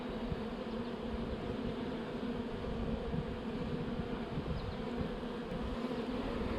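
Dense, steady buzzing of many honey bees close around a hive, a continuous droning hum with no pauses.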